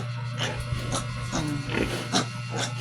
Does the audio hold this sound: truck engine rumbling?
no